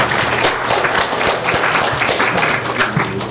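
Audience applause fills the hall at a League of Women Voters candidate forum at UTSA: a dense, steady round of clapping from a crowd, loud and close, holding throughout.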